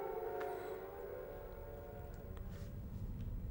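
A wailing civil-defense-style siren from the Silent Hill video game, sounding in the sewer level: a sustained rising and falling howl, fairly loud and alone, with faint game noises behind it.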